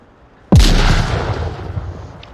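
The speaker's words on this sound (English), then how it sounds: "Little short, but otherwise well placed nade." A grenade explodes in the virtual reality shooter Onward, a single loud, close blast with a sharp onset and a rumbling decay that fades over about two seconds.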